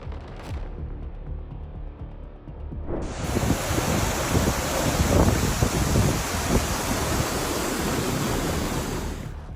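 Strong gusty wind from an Atlantic storm over Ireland, a loud broadband roar that rises sharply after a quieter opening and then stays steady and buffeting, with no voices.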